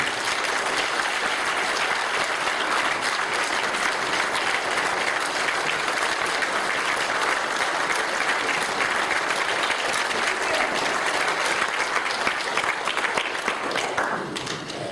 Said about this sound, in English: Please welcome and give a Lapeer cheer out for a round of applause, Congresswoman Candice Miller